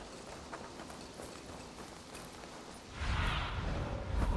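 A horse's hooves clip-clop at a steady gait in Assassin's Creed Valhalla on PS5, faint and rhythmic at first, then a louder rush of movement and wind as the pace picks up near the end.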